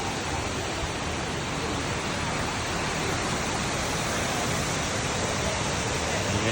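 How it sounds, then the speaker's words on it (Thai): Iskandar waterfall in the Cameron Highlands, Malaysia, roars as a steady, dense rush of falling water, loud and close with no break or change throughout. "เห็นน้ำตก"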